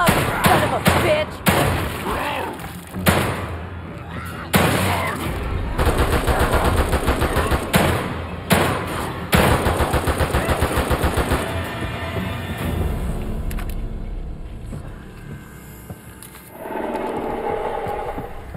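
Rapid bursts of automatic gunfire in The Evil Within 2, loud and close, firing in repeated volleys with short gaps, then tapering into quieter rumbling near the end.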